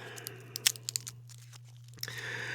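Crinkly cough drop wrapper sounds with a few sharp crackles, then a brief crunch of the cough drop, soft and close against a steady low hum.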